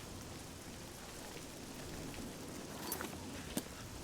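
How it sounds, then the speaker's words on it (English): Rain falls steadily in Oblivion, a soft, even hiss of drops on the ground with a couple of faint taps near the end. "I hope the rain stops."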